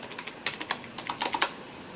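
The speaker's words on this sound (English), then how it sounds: "The keyboard keys are very tactile" Fingers tap out a quick, uneven run of crisp keystrokes on a Logitech K830 wireless keyboard, close up and alone in a quiet room.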